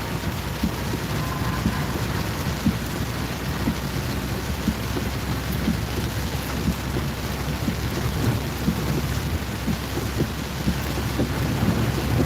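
Thunderstorm with heavy rain over the Lickey Hills in North Worcestershire, a dense continuous hiss of rain on surfaces with low rumbling thunder underneath, steady and loud throughout.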